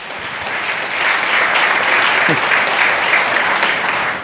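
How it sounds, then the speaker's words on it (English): Conference audience at a Lenovo tech event bursts into a big round of applause for a presenter, dense, loud clapping that swells after the first second and holds steady throughout. "Big round of applause."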